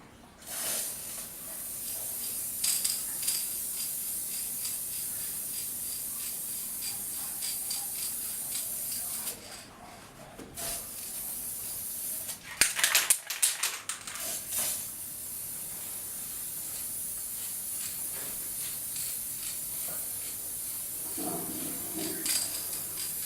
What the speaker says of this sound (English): So I'm going to try and spray paint it now.